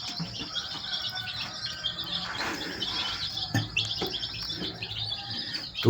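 Two-day-old chicken chicks peep in a cluster of high, thin chirps, close and fairly soft, with scattered overlapping calls and faint rustling beneath.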